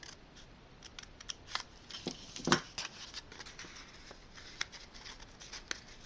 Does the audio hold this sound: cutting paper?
yes